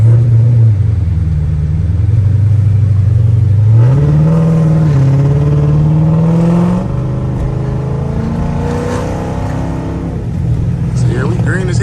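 A Dodge Charger SRT V8 pulls away on snowy Michigan side streets with a loud, close engine roar that climbs and holds through the gears, steady and dominant throughout.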